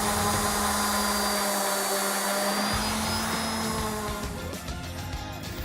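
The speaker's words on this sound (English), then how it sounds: "I'm going to sand them out using 120 grit sandpaper with my random orbit" A random orbit sander with 120-grit sandpaper works over a damaged oil-finished wood surface, giving a steady, close, continuous whirring hum with no pauses.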